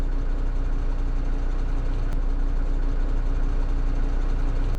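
Husky 2G military vehicle engine idling before shutdown, a steady, even low rumble with mechanical drone, constant and fairly loud, no voices.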